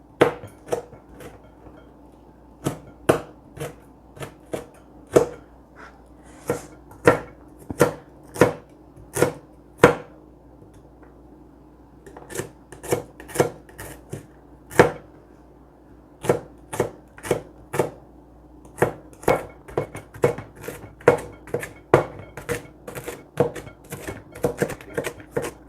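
Chili pounded in a mortar and pestle, a long run of sharp, dry thuds at an irregular pace, sometimes in quick bursts and sometimes spaced apart, close and clear with no talk.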